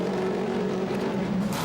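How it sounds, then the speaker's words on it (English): Abt Motorsport's matte black DTM race car with a V8 engine pulls away from a pit stop at Hockenheim, a steady loud engine drone with a rising tone, close by and continuous, no talk over it. "leaving black lines as it goes on the fabulous sounding V8 motor"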